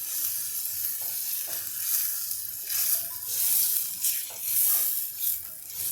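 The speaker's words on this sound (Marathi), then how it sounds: "आधी तेलामध्ये हे वाटण मी तळून घेतलं" Ground spice paste fries in hot oil for Satara-style udid ghuta, a black gram dish, giving a steady close sizzle that swells and eases with stirring, with no talking.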